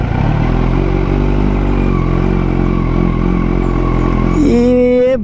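Motorcycle engine on a big hill, a loud steady low rumble that suddenly rises in a sharp rev near the end, with no talking.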